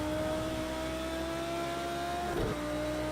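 A GT3 race car engine in Project Cars 2 holds a steady, loud drone at Catalunya, staying in second gear. Near the end, the revs drop abruptly as it downshifts or lifts off.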